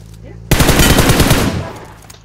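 A close, loud burst of rapid automatic gunfire from PUBG Mobile rattles for about a second after a quiet start, then fades out.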